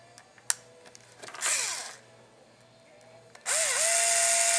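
A power drill with a small screwdriver bit drives screws while building a Tamiya CR-01 RC truck, giving two close bursts of whirring, one short and one longer, separated by quiet handling noises.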